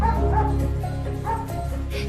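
A dog yips, whimpers and gives short bow-wow barks in a burst close by, over a steady low background hum.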